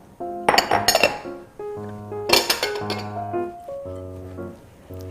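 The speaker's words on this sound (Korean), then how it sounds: "이때 호두랑 초코칩을 넣을 겁니다." Walnuts and chocolate chips drop into cookie dough in a bowl, making a series of bright clinks and rattles in quick clusters with short pauses between, close and crisp.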